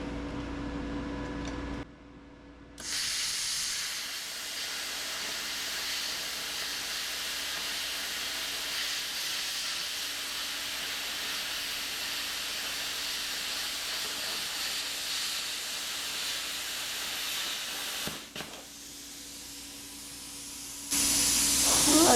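A Bestarc BTC500DP plasma cutter cuts through metal with a loud, steady roaring hiss that runs for nearly twenty seconds, starting and stopping abruptly, with a brief pause in the middle.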